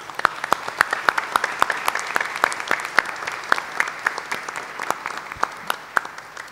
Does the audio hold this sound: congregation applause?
yes